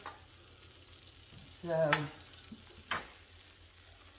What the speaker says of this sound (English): listen, can you hear that sizzling? See how it's so hot, it's melting already?